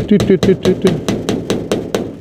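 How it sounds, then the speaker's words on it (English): A small hammer pounds a little hook into place for a DripWorks misting kit, about ten sharp, evenly spaced taps in a steady rhythm, loud and close. "You get a little hammer, you put it up like this, and you just"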